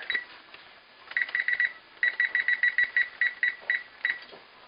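A kitchen timer beeps in quick repeated bursts of three to five chirps, with short pauses between bursts, fairly close and clear above a quiet room with faint background noise, while chicken cooks in sweet wine.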